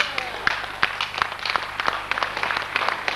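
Applause at a school April Fools' Day humor celebration welcoming the performers: a room of people clapping in a moderately loud, slightly uneven rhythm, with faint voices mixed in.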